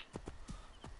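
Horse hooves in the video game Assassin's Creed Origins give a few soft, spaced clip-clop thuds in under a second, faint and low in the mix with no talking.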